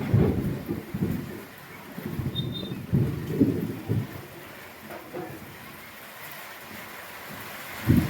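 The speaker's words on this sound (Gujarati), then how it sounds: "વરસાદની પહપાટી બોલવા મળી છે વીજળી થાય છે કડાકા ભડાકા થાય છે" Low thunder rumbles in rolling waves over a steady hiss of rain, with a few louder cracks rising and fading.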